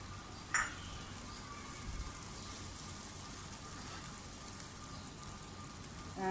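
Chicken vegetable spaghetti with tomato ketchup cooks in a pan, giving a steady, soft sizzle and frying hiss that runs throughout, with a brief clatter near the start and no voices.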